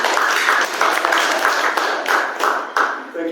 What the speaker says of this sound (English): I would say give a big applause to Miss Lynn.